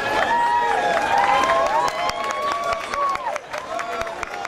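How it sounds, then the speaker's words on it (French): Audience at an Elvis impersonator contest clapping and cheering in a close, lively burst, with voices calling out over the applause. "Une bonne d'applaudissements pour notre Elvis Sicard"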